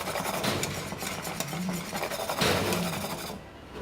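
China grass pudding mixture stirred in a pot on the stove, continuous close scraping and swishing of a spoon with faint clinks against the metal, a louder pass midway, then a quieter tail.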